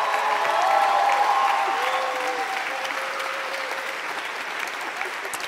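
Sustained audience applause at the international Eloquentia eloquence contest final, a dense steady wash of many hands that swells early and then slowly tapers, with faint voices and cheers mixed in.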